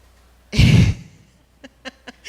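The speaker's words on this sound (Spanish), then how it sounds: "ya mi esposo ya carraspeó por ahí" One loud throat clearing up close, a short rough rasp, followed by a few faint clicks and soft taps.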